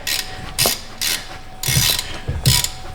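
A ratchet wrench backs out a long 15 mm bolt on a GMC truck, its quick pawl clicks coming in four or five bursts with short pauses between them as the handle swings back and forth, close and fairly loud.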